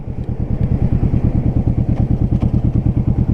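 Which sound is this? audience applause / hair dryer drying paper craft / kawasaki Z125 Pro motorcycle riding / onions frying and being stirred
kawasaki Z125 Pro motorcycle riding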